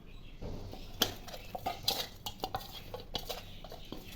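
Fish heads being mixed by hand with salt and turmeric in a metal bowl, giving soft irregular clinks, scrapes and squelchy stirring sounds, close and moderately loud, with no talking.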